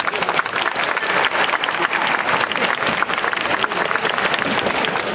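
Dense, steady audience applause from a large crowd at a jazz band concert, many hands clapping continuously at full volume throughout.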